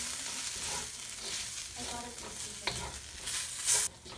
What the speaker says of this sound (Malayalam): ഈ പൊടികളെല്ലാം ഇനി നന്നായിട്ടൊന്ന് ഈ ഉള്ളിൽ മൂപ്പിച്ചെടുക്കണം